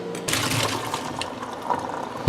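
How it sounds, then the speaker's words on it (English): Water pours from a pot of boiled, soft potato pieces being drained for gnocchi, a steady close splashing rush lasting throughout, ending with a sharp clunk of the pot. "Drain all the water out."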